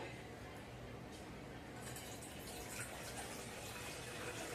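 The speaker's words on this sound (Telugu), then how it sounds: "వాటర్ పోసుకోవాలి" Water poured into a pan on a stove for Maggi noodles, a steady, faint rushing splash lasting the whole moment, close and unbroken.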